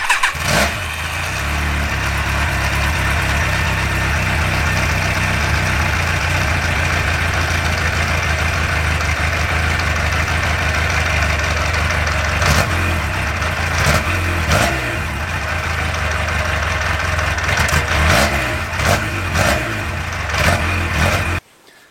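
A warm motorcycle engine idles steadily at close range after a restart, with a suspected valve shim ticking on the first cylinder side; a loud continuous rumble runs throughout with occasional sharper clicks, and no one talks.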